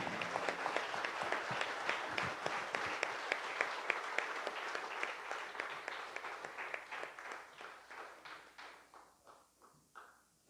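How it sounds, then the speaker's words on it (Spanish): Church congregation applauding at a Sunday morning service, a steady round of many hands clapping that thins out and fades to scattered claps at the end. "Denle un aplauso al Señor, por favor,"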